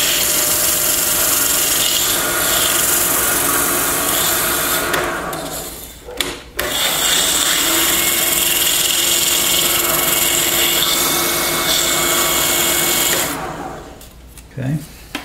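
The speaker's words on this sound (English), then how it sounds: "If your lathe reverses, it's not a bad idea to actually reverse it." Wood lathe turning a bocote pendant, with a continuous close scraping and rubbing hiss from the tool on the spinning wood, broken by two short pauses where the sound drops and restarts.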